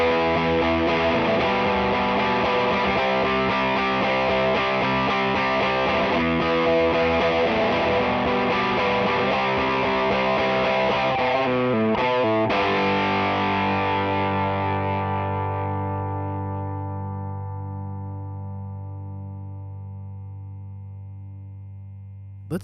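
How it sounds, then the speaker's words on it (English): Electric guitar through an Earthquaker Devices Westwood overdrive pedal into a hard-pushed amp plays thick, distorted chords and riffs, then lets a final chord ring out and slowly fade. "Let's hear what the Westwood sounds like pushing the amp very hard."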